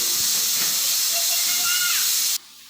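A pressure cooker whistle lets off steam while bisibelebath cooks, giving a loud, sustained hiss with faint whistling tones that cuts off abruptly near the end.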